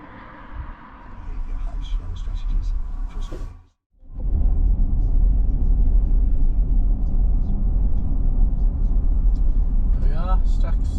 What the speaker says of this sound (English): Traffic started now, so it's a little bit noisy